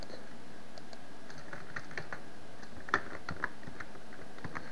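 Soft, quick clicks of typing on a computer keyboard in an irregular rhythm, fairly quiet and close, with no talking.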